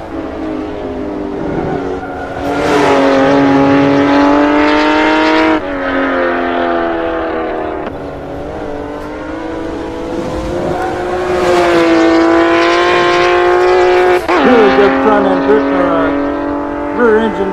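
A Porsche 911R races around the Nurburgring in the video game GT Legends. The engine sounds loud and close, rising and falling through gear changes, with tyre squeal and a commentator talking over it.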